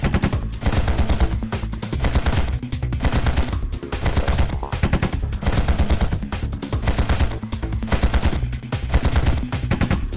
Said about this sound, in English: Watch out, bullets!